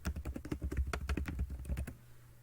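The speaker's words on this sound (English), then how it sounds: "put in your email address and that easy to remember password" Quick clicking keystrokes on a computer keyboard while an email address and password are entered, a dense run of taps for about two seconds, then quiet.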